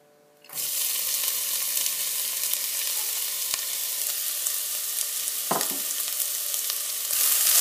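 Chopped onions fry in olive oil with a steady, loud sizzle that starts abruptly and holds throughout, with a couple of brief clinks from stirring and no talking.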